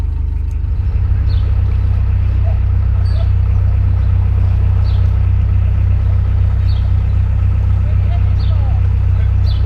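A narrowboat engine idles steadily to warm its oil ahead of an oil change, a loud, continuous low diesel rumble with a regular throb that holds unchanged throughout.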